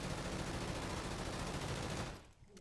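Sustained rapid automatic fire from the VPR in Call of Duty: Infinite Warfare, a dense unbroken burst of shots that cuts off abruptly near the end.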